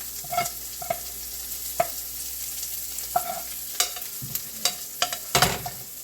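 Eggs cooking in a frying pan get scraped and pushed along: repeated short spatula scrapes over a soft, continuous sizzle, close and fairly quiet.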